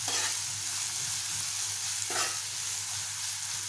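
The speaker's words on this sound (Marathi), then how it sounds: "कांदा आपण नरम होईपर्यंत परतून घेऊया." Onions stir-fried in a pan until soft for a sprouted moong dish: a low, steady frying sizzle with occasional soft scrapes of the spoon, close by and quiet.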